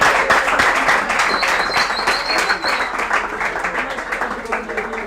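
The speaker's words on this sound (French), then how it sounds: "Est-ce qu'on peut applaudir encore très fort pour Zonga?" Dense applause from a school competition audience for a young singer who has just performed, steady and loud throughout with many hands clapping at once and a faint whistle-like tone above.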